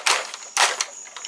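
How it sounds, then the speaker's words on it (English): A Transformers Generations Titan Returns Titan Class Fortress Maximus toy's shoulder ratchets give off tight, loud clicking bursts, three sharp crackling snaps spaced across a moment, close up with no voice. "He's got ratchets in the shoulders, which are really tight and loud."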